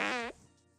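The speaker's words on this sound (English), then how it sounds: "That's a fart." A single short fart, close and fairly loud, with a buzzing tone lasting about a third of a second before dropping away to faint room noise.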